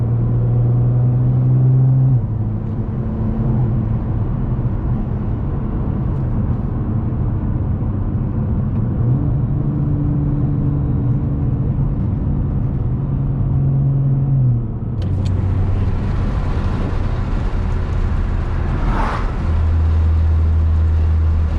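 A 750 hp 2017 Nissan GT-R running on E85 drives and accelerates, its engine droning loudly through steady pulls with gear shifts marked by pitch drops, heard from inside the cabin with no talking.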